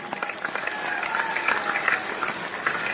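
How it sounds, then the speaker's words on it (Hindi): Steady applause from a seated audience at a garden training session, many hands clapping evenly and continuously for the whole stretch. "इनको जोरदार ताली बजाइए इनके लिए।"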